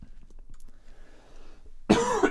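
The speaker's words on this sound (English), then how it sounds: "I start streaming and suddenly I need to cough." A single sharp cough from a person, loud and close, following a stretch of quiet near-silence.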